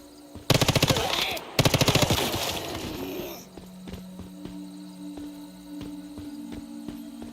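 Bursts of SMG fire in the video game Once Human come as two loud, rapid automatic volleys early on, then give way to a quieter ambient hum with faint clicks and steps.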